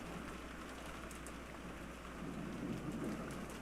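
Rain sound effect from the visual novel Umineko: a steady, soft downpour hissing evenly throughout, with a low rumble swelling slightly toward the end.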